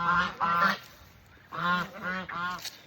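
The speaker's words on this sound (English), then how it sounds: "coming out here messing with these birds, because they do not like when you come up there unless you feeding them" Farm geese honk loudly and close by in two bursts of repeated nasal calls separated by a short pause, with no talking.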